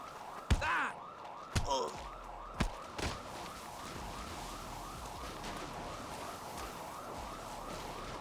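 Police car siren wailing in a steady, repeating cycle at a distance, with a few sharp bangs near the start and no talking over it.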